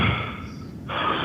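Quick, deep, controlled Wim Hof method breaths rush in and out close by, a steady, loud, breathy hiss that briefly dips before resuming.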